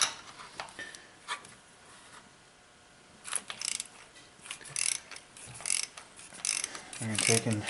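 Close, sharp ratcheting clicks in irregular bursts come from a socket wrench on a 6-inch extension as it removes a spark plug from a Ford Edge 3.5L engine, with quiet pauses between the turns.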